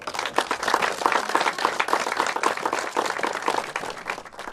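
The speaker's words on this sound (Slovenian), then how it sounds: "Pa si dajmo še vsi skupaj en velik aplavz." Audience applause at an outdoor opening ceremony for a modernized road and public lighting, dense steady clapping from many hands throughout, fairly loud and even, with no talking over it.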